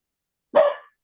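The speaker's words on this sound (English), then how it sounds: "my dog is having a fit today" A pet dog lets out one sharp, close bark at home during an online New Year's party call, isolated against silence.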